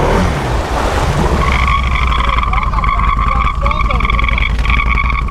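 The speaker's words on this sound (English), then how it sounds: "I think that's coming out of the exhaust. Why is that such a bad noise?" Exhaust of a Can-Am ATV driving through a deep swamp, giving a loud, steady whining drone with layered tones over rumbling low engine noise and water churn.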